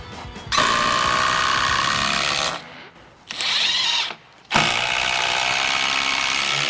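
Power driver screwing sheathing onto a barndominium wall, several long loud whirring bursts separated by brief pauses, close up and with no talk.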